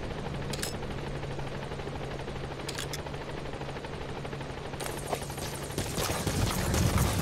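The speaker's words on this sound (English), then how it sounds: "Support helicopter has arrived." Support helicopter arriving in Metal Gear Solid 5, a steady rotor drone with a low hum under dense noise, growing louder and fuller toward the end, with brief sharp bursts scattered through.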